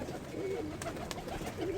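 A pigeon coos softly several times in short wavering phrases against a faint background hiss, with a couple of brief clicks between calls and no speech.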